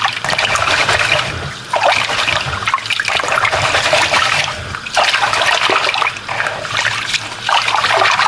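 Water poured off rice to rinse out its starch, a steady close trickle and splash of liquid running continuously with small surges and no talk.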